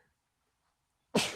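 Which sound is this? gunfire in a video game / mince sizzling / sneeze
sneeze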